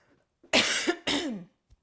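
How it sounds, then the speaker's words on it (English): A person coughs twice in quick succession, two harsh, loud bursts close to the microphone, with a brief pause between them and near silence around them, during a Zoom jazz dance class. "I think it's about time I asked my doctor about this cough"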